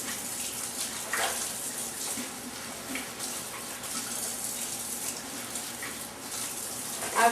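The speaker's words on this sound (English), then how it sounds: "I'm going to rinse these collards." Tap water runs in a steady, hissing stream as collard greens are rinsed in a sink, with faint splashes and shifting flow throughout.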